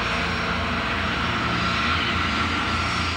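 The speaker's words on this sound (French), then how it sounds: "Le 747 de Paname passe devant la sortie C3 et continue à rouler sur la piste vers le Boeing de" A Boeing 747 airliner taxiing along an airport runway gives a steady, loud, continuous jet engine roar and whine that holds evenly throughout with no voices.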